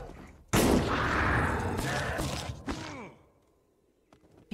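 An explosion in the game The Last Case of Benedict Fox: a sudden loud burst that rumbles and crackles for about two seconds, then fades into quiet with a few faint ticks.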